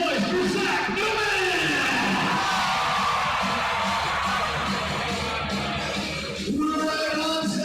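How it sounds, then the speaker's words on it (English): A crowd yells and cheers loudly for a rider at an outdoor rally, with a sustained roar of whoops, an announcer talking over it, and a brief dip near the end. "make some noise for Zach Newman"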